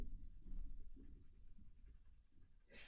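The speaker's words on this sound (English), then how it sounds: "I'm just going to draw with the pencil" A Faber-Castell Jumbo Grip pencil scratches across paper in quick, close, rhythmic strokes, a soft steady scribbling with no voices.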